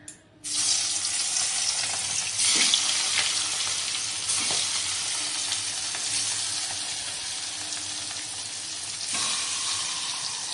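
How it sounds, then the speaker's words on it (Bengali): Turmeric-coated fish hits hot oil in a kadai for a papaya-potato fish curry, a loud hiss erupting after a brief quiet start and settling into a continuous close sizzle with scattered pops and utensil taps. "এবার মাছটা কড়াই দিয়ে দেবো, তেল গরম হয়ে গেছে।"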